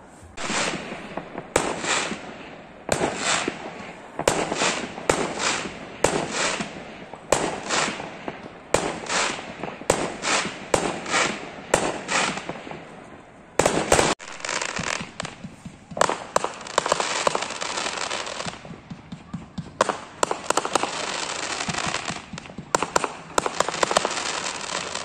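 Canada Day fireworks in Orleans, Ontario, heard as a long run of sharp bangs and crackling bursts, some loud and close, others overlapping in rapid clusters, with occasional faint voices.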